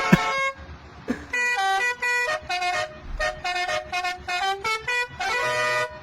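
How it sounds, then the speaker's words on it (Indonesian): A Honda Beat motorbike fitted with a trumpet horn blares a loud, continuous melody of bright tooting notes in a quick tune, close and dominant, with faint street noise underneath. "Jarang-jarang loh gue ngeliat motor Beat yang klakson trompetnya tuh kayak gini gitu."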